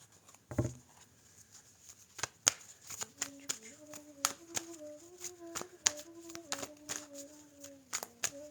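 A tarot card deck being cut and shuffled at close range, with a quick burst of riffling followed by a steady run of soft card taps and slaps, while a person talks quietly underneath.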